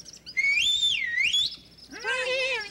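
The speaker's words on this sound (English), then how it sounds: "You mean my whistle, I guess?" A whistle blown in a Sesame Street news-flash sketch about the Pied Piper gives a bright, wavering tone that swoops up and down, then a second warbling burst of several trilling notes, loud and close, with no talk over it.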